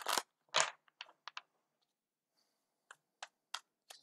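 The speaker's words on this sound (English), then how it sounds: "I'm going to shuffle for a second and get some cards." Tarot cards are shuffled close up in quiet bursts, a handful of crisp riffles and taps separated by short silences, no voices.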